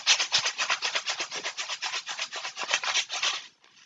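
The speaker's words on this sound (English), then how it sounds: "So here's me making a quiet sound with my couscous" Couscous shaken as a quiet homemade instrument gives a soft, steady rattling hiss in quick rhythmic pulses, heard alone for a few seconds before it stops.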